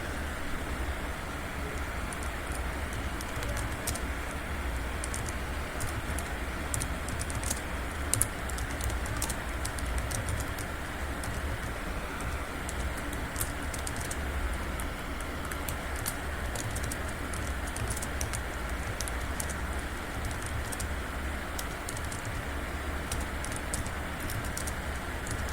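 Rapid, steady clicking of a computer keyboard as a quote is typed out, continuing for the whole stretch at moderate volume over a constant background hum, with no speech.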